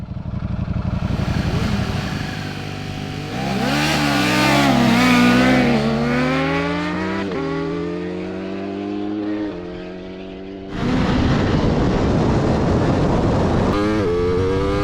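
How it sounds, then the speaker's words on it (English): Hyper naked motorcycles, a Ducati among them, launch and accelerate hard in a drag race, engines howling loudly through rising gear changes, fading and then surging back as a second loud pass roars close by. "Chad's confident that if he gets off the line he can beat the Ducati."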